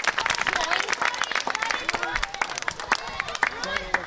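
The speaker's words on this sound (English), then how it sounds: "Give them a big hand." Audience applause after a performance, a dense, steady wash of many hands clapping close by with crowd murmur mixed in, continuing throughout.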